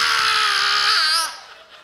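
A voice imitates a screaming baby, a sustained high, harsh wail held loud for over a second before breaking off and trailing into faint sounds.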